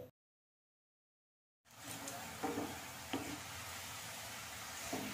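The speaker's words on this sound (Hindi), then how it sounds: "इन प्याज को हम फ्राई करेंगे हाई टू मीडियम फ्लेम में गोल्डन ब्राउन जैसे" Finely chopped onions deep-frying in oil over a high-to-medium flame, a steady close sizzle that starts after a silent opening and runs on evenly with a few light utensil taps.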